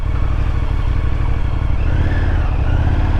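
An Indian FTR 1200 motorcycle accelerates on a test ride, its engine a loud, steady rumble with a rising tone toward the end, close and continuous with no talk.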